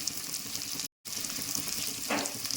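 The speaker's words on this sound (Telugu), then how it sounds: "కట్ చేసి పెట్టుకున్న ఉల్లిపాయ ముక్కలు పచ్చిమిరపకాయ ముక్కలు వేసుకున్నాం" Sliced onions and green chilli pieces fry in a pan with a constant close sizzle, briefly cut to silence near the start, then hissing on.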